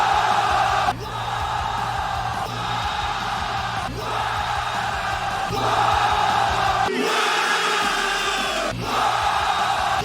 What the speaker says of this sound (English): the audience eventually began singing the rest of the lyrics to his song